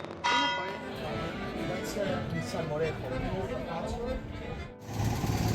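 A church tower bell in the Spanish seaside town of Calp rings with repeated metallic clangs, heard at a distance amid outdoor crowd noise and nearby talking.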